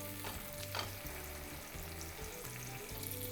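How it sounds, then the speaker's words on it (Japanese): Chicken frying in a pan of melted mayonnaise, a soft, quiet sizzle with a few light clinks and scrapes near the start and a low hum underneath, no voices. "まずはフライパンから音が鳴っていくまで加熱をしていきます"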